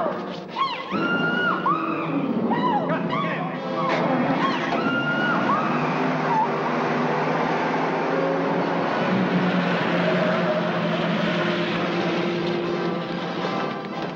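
Car engine pulling away and running steadily at a distance, a continuous mid-level rumble with faint shifting tones behind it, no talk, set in a 1942 crime drama.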